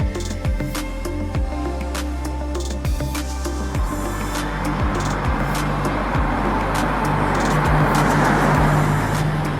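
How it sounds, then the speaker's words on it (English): A Bentley Continental GTC engine runs steadily, with low rumbling harmonics and a few rising rev sweeps, close and loud, then building into a broader roar as revs climb. "we're going to start it up, we're going to do a few revs"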